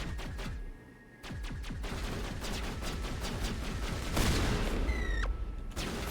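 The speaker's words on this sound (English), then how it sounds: "That gun is powerful" Rapid, dense bursts of heavy gunfire from a powerful weapon in Mass Effect Legendary Edition, loud and continuous with a brief pause, layered with booming impacts and whining energy effects.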